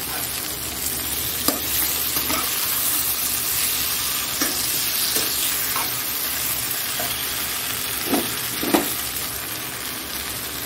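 Potatoes and pointed gourd frying in a pan, stirred with a spatula: steady loud sizzle throughout with several sharp scraping strokes scattered across it, no talking.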